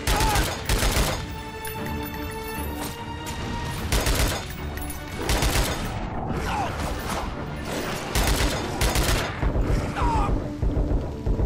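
Burst-fire gun in The Darkness 2 shooting in repeated short bursts, loud and close, with sharp clusters of shots separated by brief pauses over mechanical game noise.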